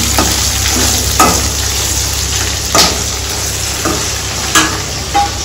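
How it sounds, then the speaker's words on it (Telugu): A tempering of spices and curry leaves fries in a pan for tamarind pulihora, sizzling loudly and continuously while a spoon scrapes and stirs in several sharp strokes at irregular intervals. "ఇవన్నీ మనకు ఫ్రై అయిపోయి కదా."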